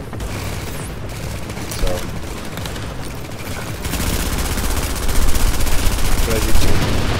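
A FAMAS rifle fires in a looter-shooter video game, dense bursts of gunfire that grow louder and more rapid toward the end, mixed with ambient game noise and a brief spoken word.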